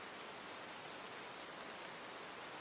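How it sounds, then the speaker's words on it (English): Steady rain falls outdoors, a continuous even hiss of many drops with no breaks, moderately close and soft, and no voices over it. "it is raining."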